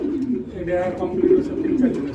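Pigeons in a breeding loft with a pair sitting on eggs give low, throaty cooing that rolls on steadily beneath a voice speaking close by.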